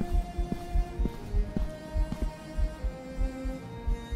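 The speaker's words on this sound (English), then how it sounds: "Hear a heartbeat." Heartbeat effect in the horror video game Bloody Glimpse, a regular thudding pulse of paired low beats repeating about twice a second over a faint droning hum.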